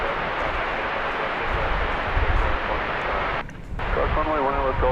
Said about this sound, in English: It's American Flight 1803 off to McAllen